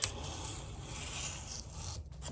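A rolling knife sharpener files along the side of a knife blade. The close, continuous scraping rasp lasts about two seconds, then breaks into a few short scuffs at the end, with no voices.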